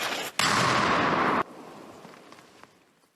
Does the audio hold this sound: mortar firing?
yes